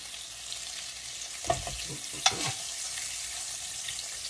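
Hamburger steaks fry in bacon grease in a very hot skillet, giving a steady close sizzle throughout, with two brief clinks or scrapes of a utensil partway through.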